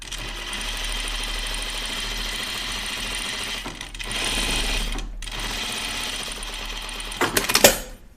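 A sewing machine stay stitches the V back of a dress, running in steady rapid bursts with brief pauses and a louder clattering run near the end.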